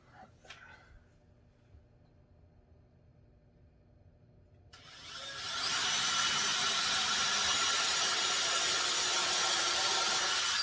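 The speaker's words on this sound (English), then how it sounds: "So got my holes pre-drilled." After a few quiet seconds with faint rustling, a power drill starts up and runs continuously, loud and close, boring into wood.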